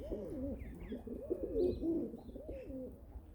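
Pigeons coo steadily in overlapping low, burbling phrases, close by, with a few faint higher chirps in the background.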